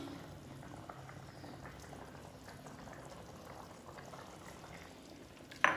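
Keema mince simmers in water in a pan, giving a faint, steady bubbling and sizzling close by, with a brief clink near the end.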